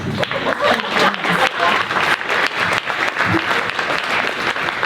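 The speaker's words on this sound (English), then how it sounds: "Let's give them a round of applause." A room full of people applauding student startup participants at a finale event, loud, close and continuous clapping with choppy pulses of hands throughout.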